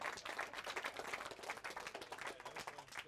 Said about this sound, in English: A round of applause for Charlie, please,